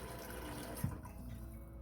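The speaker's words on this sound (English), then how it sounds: "Let me add water." Water pours steadily onto rice in a pot, a continuous rushing, gurgling fill that stays near and fairly even, with a small splash partway through.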